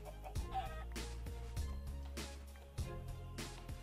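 A Minecraft chicken clucks in short, repeated bursts over steady in-game background noise, the clucks recurring at a fairly even rhythm.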